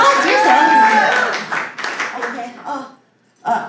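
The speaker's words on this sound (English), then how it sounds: "Round of applause, yourself." Scattered audience claps at a live comedy show, brief and uneven, largely buried under a voice speaking before a short pause and a final burst of sound.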